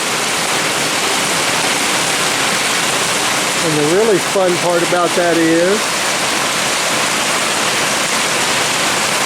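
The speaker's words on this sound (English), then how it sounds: "now it's raining" Heavy rain pours down steadily outdoors in a yard, a loud, unbroken hiss that fills the whole stretch, with someone speaking briefly partway through.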